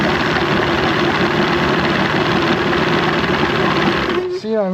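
A Johnson 115hp outboard motor idles steadily with its airbox fitted, a continuous close mechanical hum that holds for most of the stretch before cutting off near the end, where a voice begins to talk.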